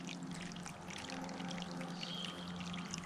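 A small woodland stream trickling steadily before it vanishes into the ground, a continuous, gentle splashing flow heard up close without interruption, with faint outdoor ambience behind it.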